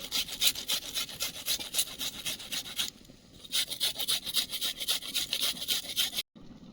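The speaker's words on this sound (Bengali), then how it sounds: "পেঁয়াজটা কোরনে কুড়ে দিয়ে দেব" Onion rubbed against a hand grater for a spicy fish paste, giving a steady run of close, raspy back-and-forth scrapes that break off briefly midway, then resume before stopping abruptly.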